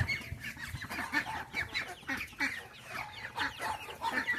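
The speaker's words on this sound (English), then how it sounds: "got these chicken, white leghorn" White leghorn chickens cluck and call continuously on a farm, many overlapping birds close by with repeated short bursts throughout.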